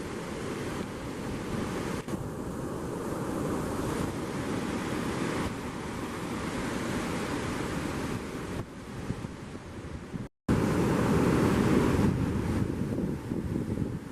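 Surf and strong water flow at the St Lucia estuary mouth at high tide, a loud continuous roar of breaking waves with heavy wind buffeting the microphone and a brief dropout near the end.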